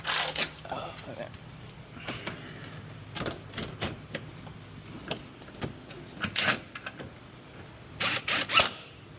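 A weak power screw gun drives screws on a 2023 Honda Civic Touring during servicing, giving short buzzing bursts and clicks close by, with someone talking over them.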